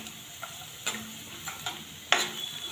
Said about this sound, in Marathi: शेंगदाणे छान असे फ्राय करून घ्यायचे